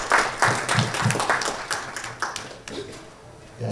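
Applause from the audience at a conference session on nutrition and health, a dense patter of clapping that thins out toward the end, with voices murmuring underneath.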